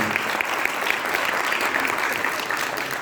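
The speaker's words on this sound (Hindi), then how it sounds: "एक बार जोरदार तालियां" An audience at a cultural function performed by blind artists claps in a dense, steady burst of applause that holds at an even level for a few seconds.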